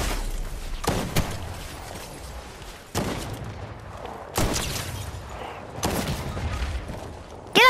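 Bursts of video game gunfire crack out in repeated broadband volleys with short pauses between them, loud and close over a steady din of background game noise.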